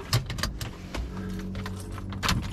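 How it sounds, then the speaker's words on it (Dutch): Car keys jangle in short metallic bursts and are slipped into the ignition inside a car, with a low engine hum underneath and no one talking. "De sleutels. In de contact."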